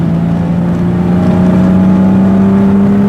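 A BMW E36 engine revs hard on a dynamometer, a loud, steady droning roar with a rising pitch held close and continuous for several seconds.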